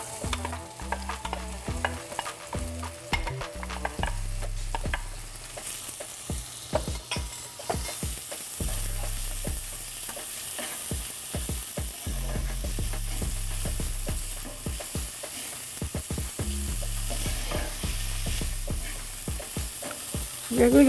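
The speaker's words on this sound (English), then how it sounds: "We are going to cook the onion" Chopped onion with hing and cumin frying steadily in hot oil for a red bean curry, a constant close sizzle broken by frequent scraping clicks of a spoon stirring the pan.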